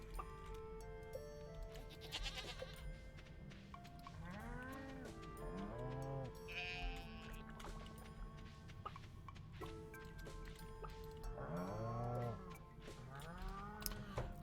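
Cows in a barn in the video game Stardew Valley moo repeatedly over a steady background music bed, with several drawn-out calls spread across the clip and a goat's bleat in between.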